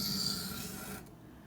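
A Cold Steel Demko AD-15 knife blade with a wavy edge drawn along a sharpening stone: one steady, close rasping stroke that stops abruptly near the end.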